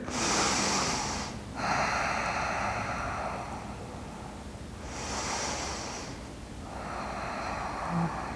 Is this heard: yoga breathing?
yes